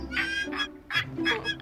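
An annoying bird honks in quick goose-like calls, four nasal honks in a rapid uneven rhythm, close and clear.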